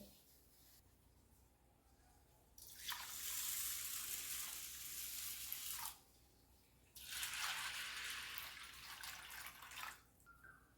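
Water pours over rice and urad dal in a bowl to soak for idli and dosa batter, two quiet, steady splashing streams of a few seconds each with a short pause between them.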